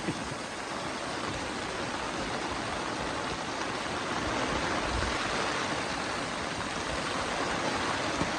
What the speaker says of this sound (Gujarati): આજકાલ વરસાદ ભૂકા કાઢે ને બધી બાજુ પાણી પડે છે